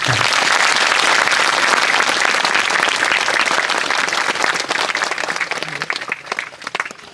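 A crowd applauds loudly for Balumama at a gathering, giving dense sustained clapping that thins toward the end into scattered, more separate claps.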